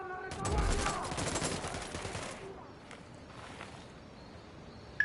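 Rapid bursts of gunfire crackle in a video game as an enemy sniper engages, loud and dense for about two seconds. A few fainter distant shots follow.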